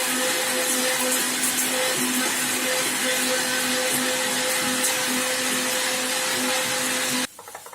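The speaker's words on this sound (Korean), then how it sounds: "준비된 재료를 블렌더에 곱게 갈아줍니다." A blender motor whirs at a steady, loud pitch for several seconds without pause, grinding ingredients for Korean geotjeori kimchi, then switches off abruptly.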